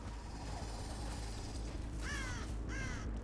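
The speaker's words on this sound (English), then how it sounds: "Maybe crows?" Crows caw in the video game Dead by Daylight, two harsh calls in quick succession over a steady, loud ambient game drone.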